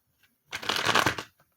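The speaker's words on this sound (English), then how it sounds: "Oh, but we're not done shuffling." A deck of tarot cards is shuffled once, close and clear, in a single brisk riffle lasting under a second and surrounded by quiet.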